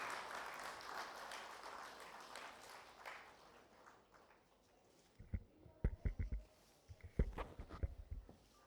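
An audience at an awards ceremony's inaugural session applauds, a soft, distant wash of clapping that fades out, followed by louder scattered thumps and knocks nearby.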